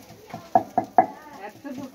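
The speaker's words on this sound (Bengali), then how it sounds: "এখন মামা রান্না করছে, মামি রান্না করছে আর এখানে আমার বুলটিও রান্না করতেছে।" Fried rice stirred in a pot in a home kitchen, with three sharp utensil scrapes and knocks at a steady rhythm and a softer clatter after them, close by with low background sound.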